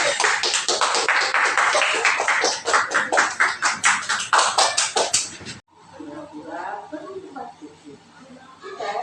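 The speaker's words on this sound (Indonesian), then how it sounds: "kita beri tepuk tangan dulu untuk kelompok lain" Children in a classroom applaud in a rapid, rhythmic burst of close clapping for about five seconds. The clapping stops abruptly and gives way to quieter talk and chatter.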